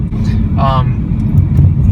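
A 2014 Mercedes-Benz CLA250 with a turbocharged engine gives a loud, aggressive exhaust drone close by, rising briefly in pitch, with talking over it.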